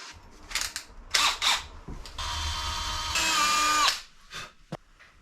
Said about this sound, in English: I'll drill a little pilot hole.